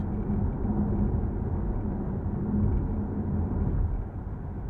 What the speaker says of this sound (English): what you hear most in the RS e-Tron GT is tire noise